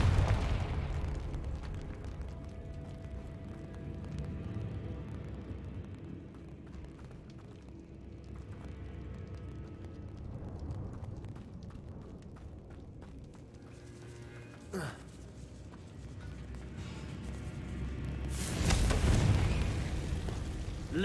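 A Confringo blasting spell goes off in a Harry Potter wizarding video game, giving a soft rumbling boom near the start, a sharp crack around the middle and a louder explosive burst toward the end, with low ambient noise in between.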